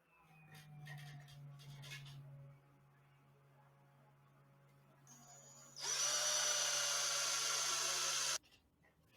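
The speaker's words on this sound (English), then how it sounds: "Match drill the hole through the strap and 1-inch square tube." A power drill bores a hole through a strap and a 1-inch square tube, spinning up with a faint hum before a loud, bright grinding whine that holds for a few seconds and then stops.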